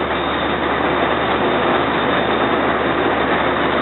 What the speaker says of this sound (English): HHP8 engine 652 as it's leaving 30th Street Station here.